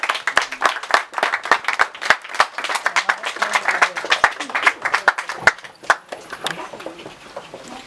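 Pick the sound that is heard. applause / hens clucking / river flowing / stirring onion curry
applause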